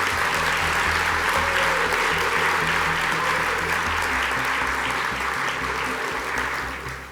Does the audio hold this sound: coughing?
no